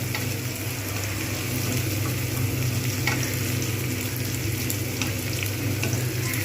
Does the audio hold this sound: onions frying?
yes